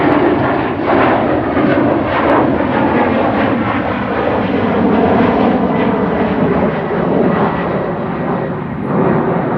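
An Embraer 190 jet airliner takes off at Amsterdam Schiphol, its engines a loud, steady broadband roar that holds nearly constant throughout with slight swells.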